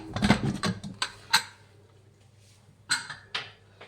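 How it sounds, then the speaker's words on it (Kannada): Metal lid of a pressure cooker being unlatched and lifted after cooking toor dal, giving a few sharp clanks and clicks at the start, then quiet, then two more clinks near the end. "ಲಿಡ್ ಓಪನ್ ಮಾಡೋಣ."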